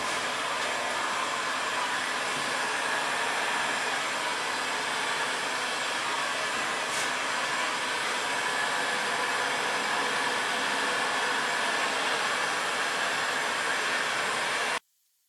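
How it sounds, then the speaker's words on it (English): Heat gun blowing steadily over a freshly poured white and brass marble epoxy countertop, a loud, constant broadband whoosh like a hair dryer that runs unbroken for about fifteen seconds before cutting off abruptly. "let me get the heat gun going"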